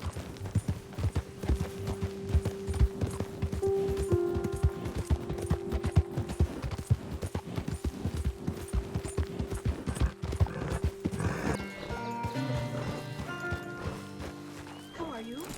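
Horse hooves clip-clop at a steady trotting rhythm in Red Dead Redemption 2, with a whinny partway through and game music and speech layered over the hoofbeats.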